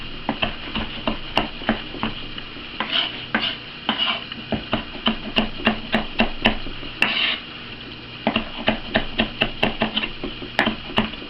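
A Santoku knife chops green beans and red pepper on a board, a steady run of close, crisp knife strikes with short pauses between bursts and no voices.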